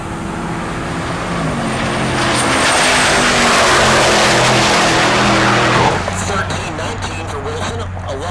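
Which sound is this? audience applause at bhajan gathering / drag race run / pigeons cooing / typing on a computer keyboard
drag race run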